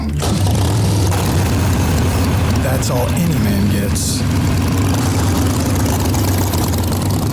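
A Harley-Davidson motorcycle engine idles with a loud, steady, deep rumble that runs unbroken throughout, while someone speaks over it.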